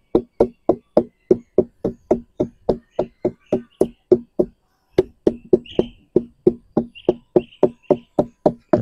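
A small sugar palm (aren) flower stalk is knocked with steady, evenly spaced sharp wooden raps, close and loud, in a long run with one brief pause midway, outdoors with faint birdsong behind.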